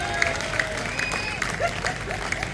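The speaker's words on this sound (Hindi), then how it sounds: "आपकी कमजोर तालियां कविता को कमजोर कर देगी।" Audience clapping at a Hindi poetry recital in Kishangarh Renwal, a thin, scattered patter running throughout, with a tonal sung or spoken line from a voice over it.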